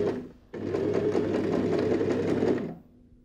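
A sewing machine stitches bias binding onto a recycled handbag, a steady close whirring run of about two seconds that starts abruptly and stops, with no talk over it.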